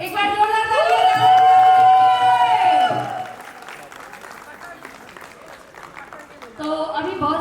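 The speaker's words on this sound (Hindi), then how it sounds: "एक बार जोरदार तालियां" Guests at a Tilak and Sangeet ceremony break into applause, a few seconds of scattered clapping that follows loud singing and gives way to more voices.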